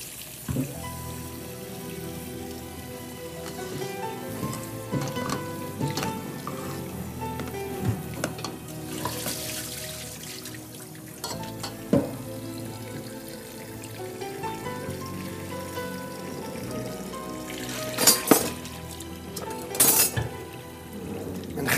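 Potato slices for potato soufflé fry in hot oil with a steady crackling sizzle throughout, broken by occasional clinks and sharper bursts of spattering near the end.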